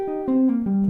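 A quick run of picked guitar notes, played with the pick resting on the strings between strokes, stepping downward in a fast, even sequence that rings close and clear.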